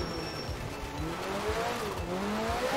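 Rally car in the racing game Art of Rally braking hard, with a steady engine drone and a tire squeal rising and falling in pitch, continuous and fairly loud, with no one talking.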